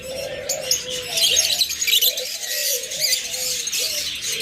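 Pigeons coo in soft, repeated throaty notes, close by, mixed with bright chirps from other birds in a busy, steady chorus with no talk.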